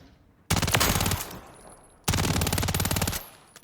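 Rapid automatic gunfire from a weapon with a very high rate of fire, around 900 rounds per minute, in Call of Duty Modern Warfare III: two loud sustained bursts of dense, evenly spaced shots, each lasting over a second, separated by a brief pause.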